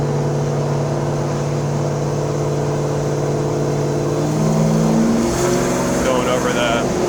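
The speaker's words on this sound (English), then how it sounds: "The exhaust note is very nice." A 1969 Chevrolet Chevelle SS exhaust drones steadily while driving over a bridge, its engine note rising as it accelerates near the end. The exhaust sound is close and continuous.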